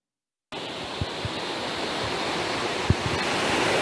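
Ocean waves breaking at the Tamarin surf spot during a level 3 cyclone alert, a continuous broad roar of surf with a few soft thuds, steady and fairly loud with no voices.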